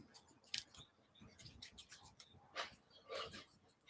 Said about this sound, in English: Miss Sunflower, when to stop shuffling, or I can stop when the spirits compel me